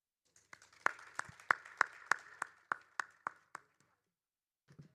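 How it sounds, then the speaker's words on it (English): Small audience at a conference claps for panelists and team leaders: a sparse run of distinct, fairly close hand claps at a steady rhythm that thins out and stops, followed by a faint trailing sound. "you have to give them a bigger round of applause"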